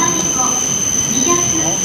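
A 17-car train bound for Sendai rolls into a station platform with a steady rumbling roar, a sustained high metallic squeal from the wheels running throughout.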